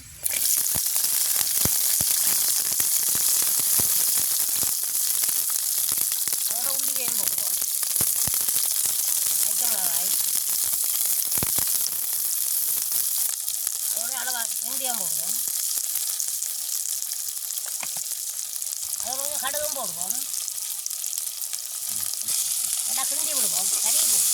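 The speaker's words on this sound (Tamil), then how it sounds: "எண்ணெயை விடுவோம் இதோட பட்டி வச்சுக்கிற வெங்காயத்தை போடுவோம்" Chopped onions fry in hot oil in a pan over a village cooking fire, a dense, continuous sizzle with bursts of crackling and occasional stirring. Faint voices come and go beneath the frying.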